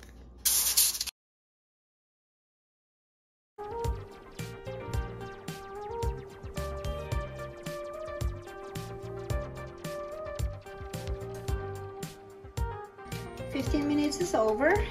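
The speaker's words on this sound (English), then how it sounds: "I'm gonna use cooking spray. Spray my pan." Cooking spray hisses onto a baking pan in one short, loud burst. Silence follows, then busy tonal background sound takes over.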